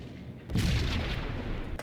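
A single heavy sniper rifle shot in the Max Payne video game, a booming blast that rings out and lingers briefly.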